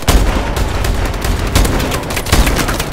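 An AK-47 in a video game fires rapid bursts, loud and dense with sharp repeated shots and booming impacts throughout.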